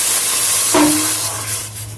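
Water poured into a heated pot while making liquid soap, a loud hissing sizzle with a brief spray burst that gradually settles.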